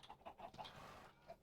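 Chickens cluck in the Minecraft video game, several short soft clucks in a loose, uneven rhythm, faint and close, with no talking.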